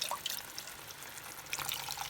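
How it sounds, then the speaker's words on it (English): Water poured into a cooking pot for boiling momos, a soft trickling and splashing that runs steadily for about two seconds, fairly quiet, with no voices. "I will add some water."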